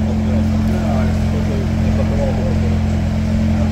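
A Cupra Ateca 2.0 TSI 300 PS Limited Edition's engine rumbles at a steady, deep idle, loud and close, with a constant low hum and no change in pitch.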